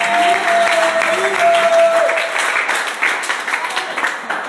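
A church congregation applauds and cheers during a French-language sermon, with a dense wash of clapping, a sustained tonal whistle or shout early on, and the applause thinning toward the end.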